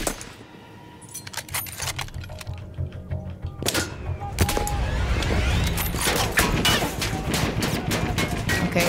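Powerful weapon firing in the video game Battlefield 1, a run of sharp shots at first, then dense, loud, rapid gunfire with clattering mechanical noises layered on top.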